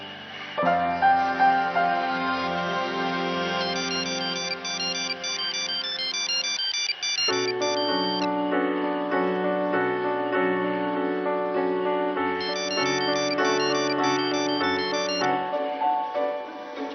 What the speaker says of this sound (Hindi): जानू की फ़ोन बार बार आ रहे हैं, मुझे फ़ोन नहीं आंसर करना